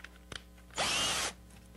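A power drill boring a hole into a loose piece of wooden baseboard trim, one loud steady whir lasting about half a second, close up, with a faint click just before it.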